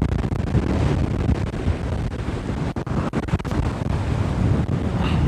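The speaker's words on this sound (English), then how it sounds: "the waves are crashing, and the spray is jumping at least 10-15 meters across here" Storm waves pound a jetty on a rough sea while strong wind buffets the microphone, a continuous loud roar of surf and gusts with no voices.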